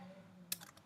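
A short burst of computer keyboard typing during a Hive install in a Linux terminal: a handful of crisp, close key clicks in quick succession after a low hum, with no talk.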